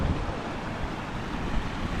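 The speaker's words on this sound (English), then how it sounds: "Got a steady flow of water coming down here though." A rain-swollen stream near Edale and Kinder pours strongly down a hillside, making a close, continuous rushing roar with no voices over it.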